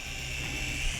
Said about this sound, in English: This is a really quiet helicopter.